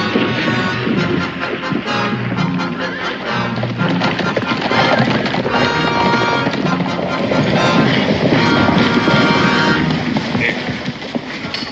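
Horses in a 1969 Western TV drama neigh and whinny over clip-clopping hooves, loud and busy, mixed with wind noise and shouting voices.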